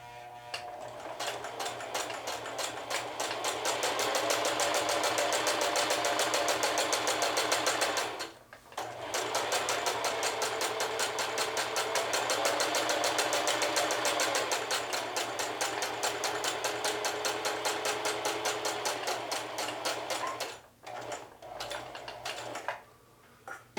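A sewing machine stitches belt loops in a fast, steady run of needle strokes, pausing briefly twice before starting up again, close and clear with no talking.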